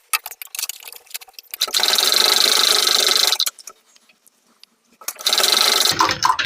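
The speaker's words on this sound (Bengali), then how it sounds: "আবার এটাকে ঘুরিয়ে আবার সেলাই করে মিডিল পর্যন্ত যাবো" A sewing machine stitches a kurti sleeve in two loud, close, steady whirring runs of rapid needle clatter, with brief clicks and handling noises before and between them.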